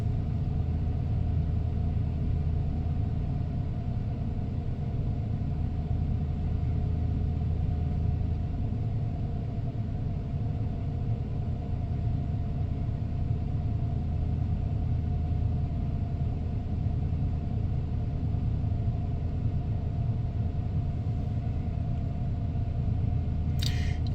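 A 1994 Ford F150 XLT pickup with a 302 V8 and automatic transmission idles after a cold start, a steady low rumble that carries on evenly without speech.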